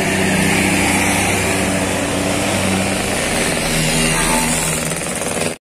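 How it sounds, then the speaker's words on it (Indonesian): A Yen Meke tour bus passes at Galendo 2, Ciamis, its loud, rattling engine and tyre roar sustained close by for several seconds before stopping abruptly. "Melintas bus Yen Meke."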